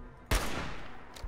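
Gunfire from raiders and a turret in the Fallout 4 video game: one loud sharp shot bursts in, its noise trailing off, then a fainter second shot follows about a second later.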